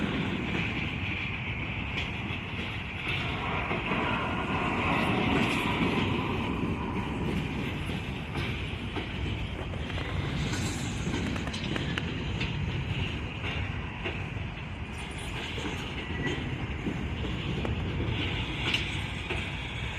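Long NS freight train passing on the rails on an overcast day, a continuous rumbling roar with rattling wagons and faint clickety-clack, steady and fairly near throughout without talk.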